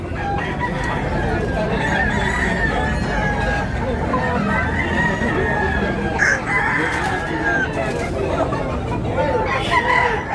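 Several tall Black Leg roosters crow repeatedly over a noisy, bustling background with clucking fowl and faint distant voices, in Talisay, Cebu.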